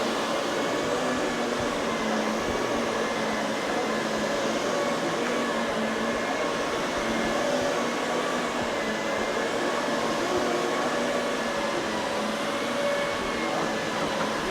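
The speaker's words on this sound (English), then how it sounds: "I'm going to turn the vacuum on." A vacuum cleaner runs on carpet during carpet cleaning, giving a loud, steady whirring drone with a constant motor whine that holds unchanged throughout and has no talking over it.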